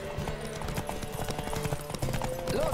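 A horse gallops in a race in the video game The Witcher 3, its hooves making a quick, rhythmic clip-clop at moderate volume over busy game audio.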